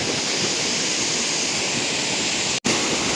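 Steady broadband rush of a clear mountain river flowing on a morning walk, continuous and fairly loud with no talking, broken by one brief dropout.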